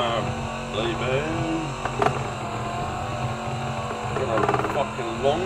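A Holden Maloo V8 does a long burnout in the Assetto Corsa racing game, the engine droning and rising in pitch with tyre screech over it, as a voice talks now and then.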